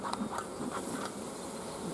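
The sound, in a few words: bees buzzing in the hive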